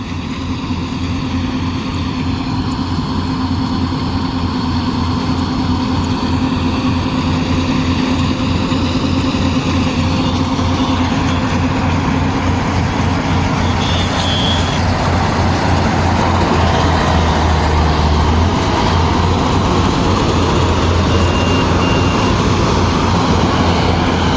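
A Yanmar AW70GV harvester drones loudly and continuously while cutting paddy in a field, a steady heavy engine roar that holds for the whole stretch with little change.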